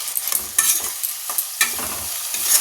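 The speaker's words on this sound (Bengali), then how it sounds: "এই যে পেঁয়াজটা হালকা ভাজা হয়ে গেছে, ব্রাউন হয়ে এসছে" Salted onions browning in a pan, stirred often; crackling sizzle close up, broken by sharp scraping stir strokes at an uneven pace, no voices.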